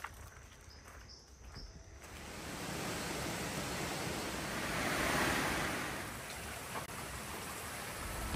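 Waterfall at Santa Juana Lodge in Costa Rica, a steady broadband rush of falling water close by. It holds a constant roar for the whole stretch and swells slightly partway through, with no voices.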